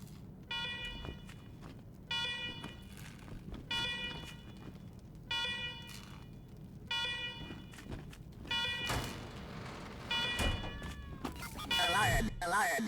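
Old bunker security alarm in the video game Wasteland 3, blaring in repeated pulsing bursts roughly every two seconds, with game noises and a voice overlapping toward the end.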